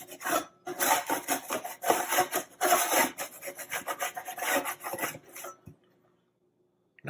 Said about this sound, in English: I do usually like to take a spatula and put them underneath to scrape off a little bit